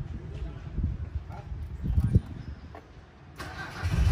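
A Mitsubishi car engine runs noisily, a rough low rumble close by, while people talk over it.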